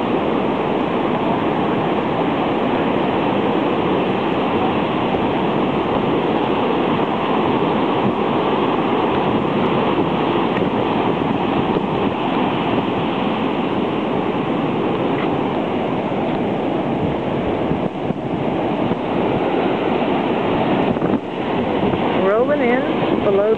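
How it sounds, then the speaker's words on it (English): Hurricane Ike's tidal surge pounds a beach, where the eroded dune has been cut away: a loud, continuous roar of crashing surf with wind buffeting the microphone throughout, steady and unbroken from start to finish. "It's just tidal surge."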